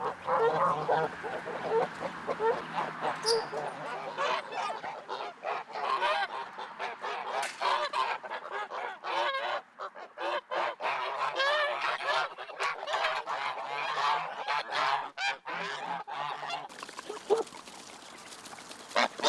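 A flock of geese of an ancient breed honks continuously and loudly nearby on a poultry farm, calls overlapping throughout with no talking.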